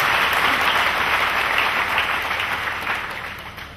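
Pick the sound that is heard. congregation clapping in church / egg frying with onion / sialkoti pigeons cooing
congregation clapping in church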